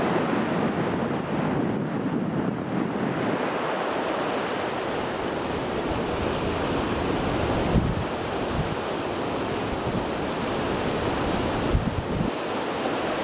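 Incoming tide waves washing steadily along Blackpool beach by the pier, a continuous broadband surf roar with wind buffeting the microphone, no voices.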